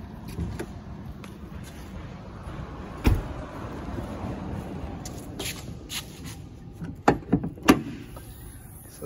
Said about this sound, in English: Now we can pop the hood open as well.